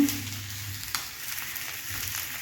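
Eggs and potatoes frying in a pan for a spicy egg curry make a soft, continuous sizzle with faint crackles, close and steady, with no talking.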